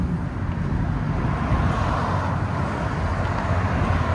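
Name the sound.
2018 RAM 5.7L HEMI V8 exhaust, X-pipe and Carven mufflers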